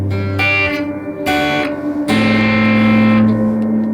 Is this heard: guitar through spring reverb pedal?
yes